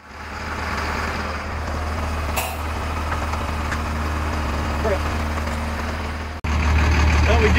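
An FMTV military truck's diesel engine idles loudly nearby with a steady low rumble, briefly dipping then resuming even heavier toward the end.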